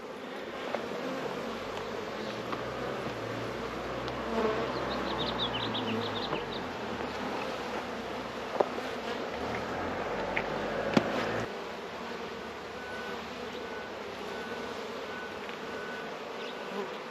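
Honey bees drone steadily around an opened hive during an early-season check with the honey frames lifted out, a close, continuous buzz with a few small clicks and knocks.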